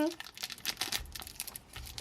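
A plastic bag around a LOL doll is being opened: close, loud crinkling and rustling of thin plastic in quick, irregular bursts, with a brief tearing sound and a little voice in the background.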